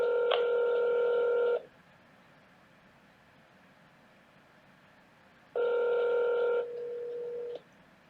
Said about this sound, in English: It's just ringing.